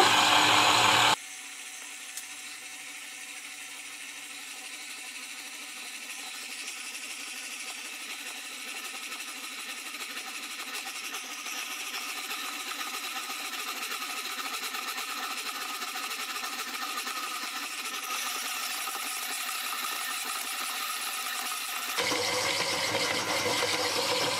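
A kneading machine works oat bread dough at low speed, giving a steady mechanical whir and faint ratcheting hum that runs continuously, with no talking.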